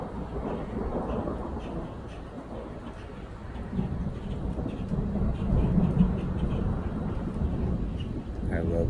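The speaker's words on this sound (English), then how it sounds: "I love thunder." Deep rolling thunder rumbles and swells through the clip, a long low roar that builds toward the middle with a faint hiss of rain behind it.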